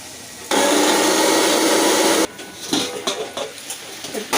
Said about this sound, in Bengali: ততক্ষণ আমি মিক্সিটা এটা পেস্ট করে নিচ্ছি